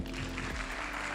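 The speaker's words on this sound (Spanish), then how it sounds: "un aplauso para ella" Audience at a science and technology congress in Chile applauding as a speaker is welcomed, a brief dense burst of clapping from many hands in a large hall.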